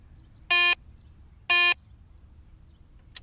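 Garrett ACE 250 metal detector giving its bottle cap signal, two short buzzy mid-pitched tones a second apart, each about a quarter second, crisp and loud against a low, quiet hum.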